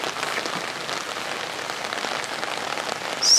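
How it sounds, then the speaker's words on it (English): Summer rain falls in a Michigan backyard fig garden, a dense, steady hiss of drops pattering on surfaces, moderately quiet and continuous, with a brief brighter splash near the end. "We have these summer rains and sometimes severe weather, thunderstorms"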